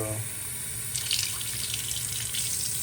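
Water runs steadily from a sink faucet in a home fitted with a water softener, a continuous splashing wash that swells slightly partway through, heard up close with no talking.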